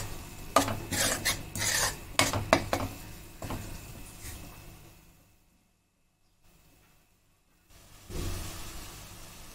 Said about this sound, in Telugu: అల్లం వెల్లుల్లి పేస్ట్ ఇంకా పసుపు రెండు మంచిగా పచ్చివాసన పోయేంత వరకు బాగా మళ్ళీ ఒక 1 మినిట్ వరకు బాగా ఫ్రై చేసుకుందాం